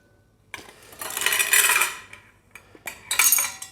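Spoon stirring simple syrup into a fruit liqueur, bright clinking and scraping against glass in a few short bursts, close and fairly quiet with no talking.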